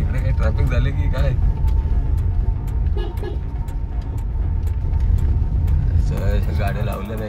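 Road traffic near a coastal town, with cars and other vehicles rumbling past at close range and a horn toot or two, under almost continuous nearby talk.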